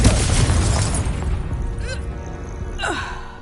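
Fire-blast spell exploding in Hogwarts Legacy, a loud, close burst of roaring blast noise that decays over a second or two, followed by a couple of brief whooshing magical sweeps, no talking.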